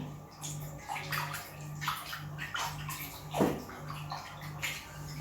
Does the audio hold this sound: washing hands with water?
yes